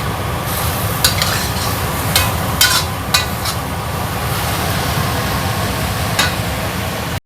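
Cabbage, boiled beforehand and now stir-fried in a pan for a crunchy home-cooked dish, sizzles steadily while a utensil scrapes and stirs with a few sharper clinks, close and alone with no talk.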